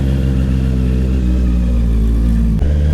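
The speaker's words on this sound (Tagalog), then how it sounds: "Grabe din tong Leo Vinci na exhaust." Honda CBR650R motorcycle fitted with a LeoVince exhaust, revving loudly and steadily with a deep, full engine tone that holds then drops sharply near the end, no voices.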